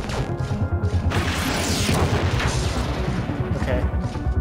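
Weapon fire in the video game Metroid Prime Federation Force, rapid rumbling shots and explosive booms layered densely over game sound, with someone talking over it.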